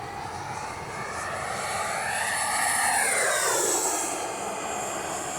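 A Freewing Avanti S V2 RC jet streaks past at full speed, its steady turbine-like whine rising and sweeping in pitch as it climbs and flips, loud and continuous, swelling near the middle then easing away.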